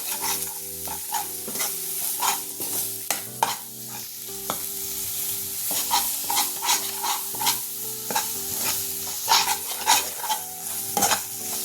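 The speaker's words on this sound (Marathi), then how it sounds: "हे मिक्स करून झालं की त्यावर थोडंसं 1 चमचाभर आपल्याला पाणी घालायचंय आणि परत एकदा असं छान हलवून घ्यायचंय" Amritsari chole masala sizzling in a pan while being stirred, a close continuous fry with repeated sharp spoon scrapes against the pan in an irregular rhythm, no voices.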